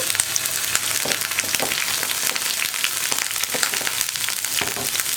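Ginger, garlic and green chili sauté in coconut oil, giving a steady, close crackling sizzle with scattered pops and light stirring scrapes, no voices.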